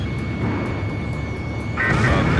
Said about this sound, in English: This is a transport plane, Mother Goose 1.